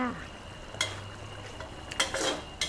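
A spatula scrapes and taps against a pan while red curry paste is stir-fried with fish balls, giving a few soft, brief metallic strokes against a quiet background with a faint hum.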